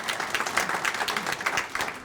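Audience applause for a newly introduced state delegate at a chamber of commerce legislative forum, a dense, even patter of many hands clapping in a room, steady and moderately loud for its whole length.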